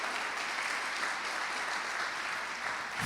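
A church congregation claps together, a dense, steady burst of applause filling the room for a few seconds with no voices over it.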